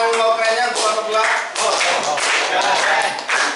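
Classroom applause for a presenting student group during a mathematics class, with dense clapping and taps mixed with chatter and cheering voices throughout.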